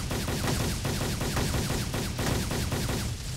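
Sustained automatic gunfire in Arma 2, a loud rapid rattle of shots fired in a long continuous burst that dominates the scene.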